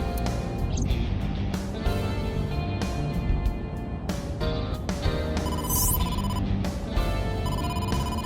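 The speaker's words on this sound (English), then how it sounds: "incoming call from the boss" Incoming phone call ringtone in the video game AI: The Somnium Files, a repeating electronic ring sounding over a dense, busy game soundtrack and effects, moderately loud and partly masked.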